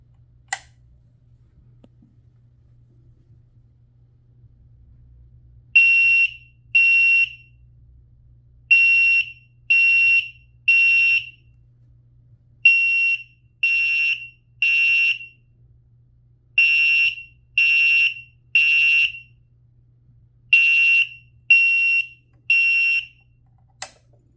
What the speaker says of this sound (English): Here is electromechanical in code 3.